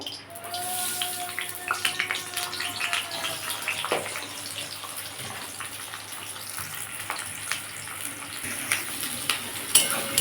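Onion frying in hot oil in a wok, giving a steady, moderately quiet sizzle with scattered stirring scrapes and light clinks throughout.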